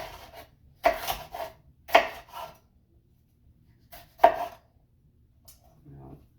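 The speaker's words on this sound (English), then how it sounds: "you can turn that around and continue to slice your pepper." A knife slicing a pepper into thin julienne strips on a cutting board, heard as a few distinct chopping knocks spaced unevenly apart with quiet gaps between.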